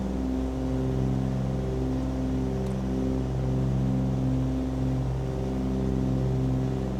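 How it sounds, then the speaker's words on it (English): A Cessna 414 flying on one engine gives a constant, droning piston-engine hum with strong low harmonics and slight beating, steady and continuous throughout. "So that one engine's producing enough power to maintain a little bit of a climb."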